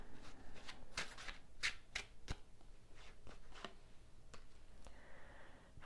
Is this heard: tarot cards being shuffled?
yes